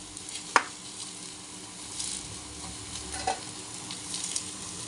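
Spices with turmeric sizzle steadily in a frying pan as they are stirred, a soft continuous hiss with occasional scraping taps of the spoon, fairly quiet and close, with no talking.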